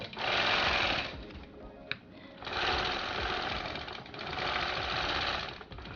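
A longarm quilting machine stitches through a quilt with a loud, steady mechanical buzz, running close in long bursts separated by a brief pause and a single sharp click.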